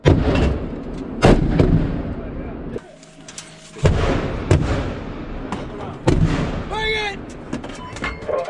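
Live-fire artillery during the US-Korea Warrior Shield drill: several sharp, loud booming shots with rumbling tails ring out at irregular intervals, close by, while crew members shout commands between the rounds.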